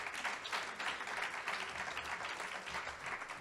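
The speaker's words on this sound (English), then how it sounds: "That's worth a round of applause." Steady applause from a crowd at a Catholic Charities benefit dinner, a dense wash of clapping filling the whole moment without any voices standing out.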